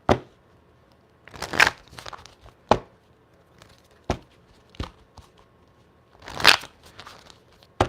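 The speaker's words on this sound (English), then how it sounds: "So quick shuffle." Tarot cards shuffled by hand close up, with a few quick riffling bursts between sharp isolated card snaps and taps in a quiet room.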